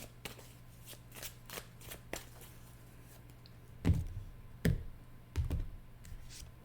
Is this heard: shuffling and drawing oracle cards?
yes